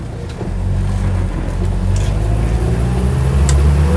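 Military-spec Land Rover Lightweight on 750x16 army tyres rolls along a road, a steady low engine drone and tyre roar filling the recording throughout, close and fairly loud with no voices.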